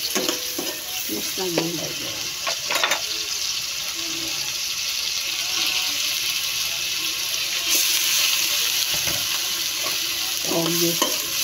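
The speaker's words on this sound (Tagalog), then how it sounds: "Magluluto tayo ng ginisang gulay" Bean sprouts and cabbage sauté in a pan with a continuous, close, hissing sizzle, broken by several utensil clinks and scrapes, and a single spoken word partway through.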